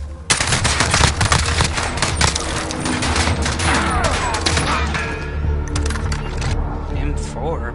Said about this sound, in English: M4, best gun in the game.